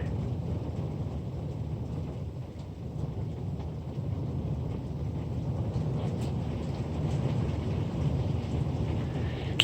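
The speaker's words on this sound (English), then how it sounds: "It is pouring out here." Heavy rain pours steadily during a thunderstorm with hail, a dense, constant roar with low rumbling underneath, close and loud throughout with no voices.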